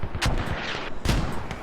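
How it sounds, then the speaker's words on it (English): Mortar shells exploding in a video game battle: two sharp, heavy blasts about a second apart with rumbling low-end, fairly close and loud, no talking. "British mortars are landing harmlessly, not affecting anyone"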